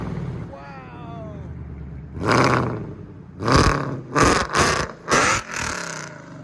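Procharged Ford Mustang GT 5.0 V8 fitted with headers and a stainless exhaust lets out several loud, close revving blasts in quick succession after a quieter idling stretch, with a voice talking over the low rumble.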